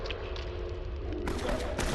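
Gunshots crack over a steady background while zombies are shot in the mobile survival game The Fall 2, a few quick reports close together, loud and clear.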